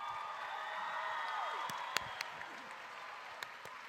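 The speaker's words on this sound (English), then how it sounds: "Let's give a round of applause to our principal, Jim Peterson, and all of our amazing teachers" A crowd at a 2019 high school graduation applauds and cheers for the principal and teachers, a broad, moderately distant roar of clapping with voices and a few sharp claps standing out, easing toward the end.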